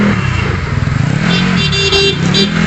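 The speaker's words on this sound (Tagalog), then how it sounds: "Galit yata si Kuya, busina ng busina" Horns honk in busy street traffic amid parked tricycles, loud and close over engine and road rumble, with short repeated blasts during a group bike ride.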